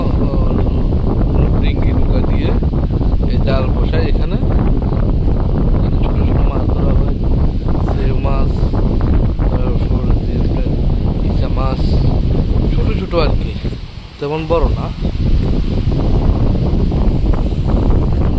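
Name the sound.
strong wind at a riverbank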